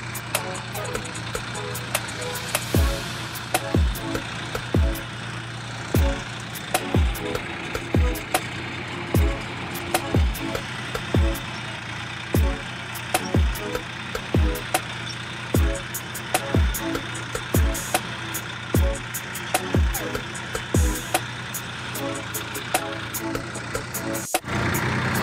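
Tractor engine running steadily while driving home from the fields, a continuous mid-pitched drone with regular low thumps repeating about once a second and scattered rattles throughout.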